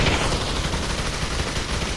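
An M60 machine gun fires in a first-person shooter video game, delivering a dense, continuous burst of rapid gunfire that fills the entire stretch loudly.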